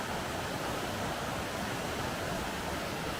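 Haltwhistle Burn rushes past a wall of rock where the river narrows, a steady broadband wash of flowing water, constant and fairly soft, with no voices over it.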